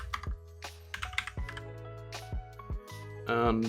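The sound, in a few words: typing code on a computer keyboard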